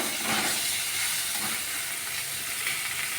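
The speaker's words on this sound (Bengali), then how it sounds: "হিং আর জিরে সমেত ফুলকপিটা আমি নাড়ব।" Cauliflower sizzles steadily in hot oil with asafoetida and cumin, a loud, close, continuous frying hiss with faint stirring, no voices.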